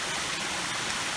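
Brief, steady rush of rainwater flowing off a hill in a stream into a reservoir after September rain, a continuous close gushing hiss with no voices.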